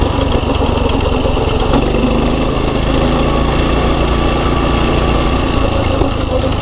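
A free pit bike's small engine running steadily at low RPM, a loud, close, continuous buzzing drone that holds without a break.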